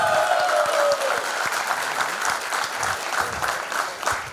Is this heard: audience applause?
yes